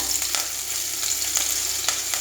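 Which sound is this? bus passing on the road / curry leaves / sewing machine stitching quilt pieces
curry leaves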